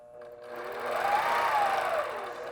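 Longarm quilting machine stitching a log cabin quilting pattern, a steady mechanical whir with rapid needle chatter that swells louder through the middle and eases slightly toward the end, heard alone.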